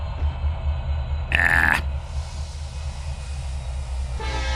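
Train rumbling along in the Trainz 2022 railway simulator game, a six-axle locomotive hauling a long road train, with steady low engine drone throughout and a brief horn-like blast in the middle.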